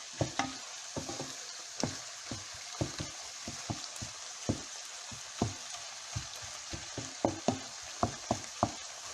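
Pancetta fries in a pan during risotto preparation, a steady bright sizzle with repeated sharp clicks and scrapes of stirring spread across the whole stretch, fairly close and with no voices.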